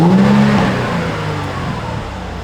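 A used luxury hard-top convertible car's engine is revved loudly up close, the deep exhaust note peaking at the start and then settling into a steady, droning idle.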